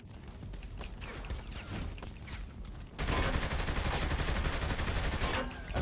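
Automatic gunfire in the video game Saints Row: The Third, scattered shots and bursts at first, then a dense, continuous barrage of rapid fire that grows loud and stays heavy to the end, with no talking.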